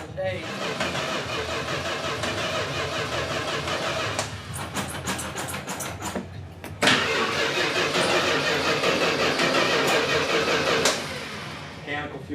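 A 1923 Dodge Roadster with a mechanical fuel pump cranks and starts, then idles and backs out, its engine running loud and steady close by with a brief crank break midway while people talk nearby.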